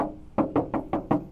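Knocks on the rear door of a 1997 Daihatsu Taft Rocky, five evenly spaced hollow raps heard up close with no talk.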